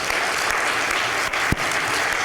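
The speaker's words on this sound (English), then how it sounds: "Give yourselves a round of applause for that." Attendees at a county health symposium plenary session applaud together, a thick, sustained wash of clapping heard close and loud, with one sharper clap standing out near the middle.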